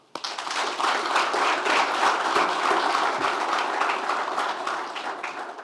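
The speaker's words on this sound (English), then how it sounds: "So I would like us to clap for them." Audience applause for young people at an event at Norrsken House in Kigali, a dense, steady wash of many hands clapping that starts abruptly and holds evenly for several seconds.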